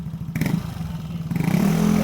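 A Yamaha NMAX 155 V2 scooter engine runs close by with a throbbing idle and a brief rise in revs, its low rumble steady and loud throughout.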